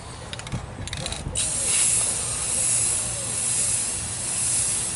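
Spray gun laying a second wet coat of paint on a car fender, a steady close hiss that rises after a brief lead-in and holds loud to the end.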